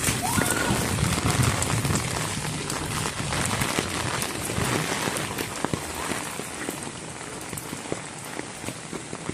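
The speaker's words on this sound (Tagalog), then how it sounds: "Kunti pa lang, mahina pa yung ulan na yan" Light rain patters steadily on outdoor surfaces in a continuous, even hiss with scattered drops, filling the whole stretch without letup as flooding begins in the street.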